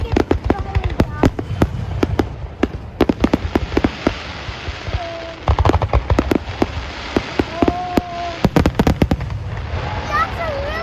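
Fireworks at a weekend display burst in loud, rapid clusters of sharp bangs and crackles, with whistling rockets rising between them and excited voices talking throughout.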